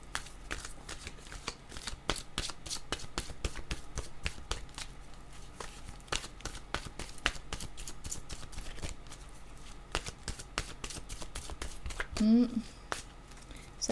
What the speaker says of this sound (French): je vais demander pour terminer une carte de mon oracle de l'âme intuitive